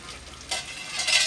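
Onions fry until brown in a pan, a short burst of hissing sizzle with a stirring scrape that swells toward the end.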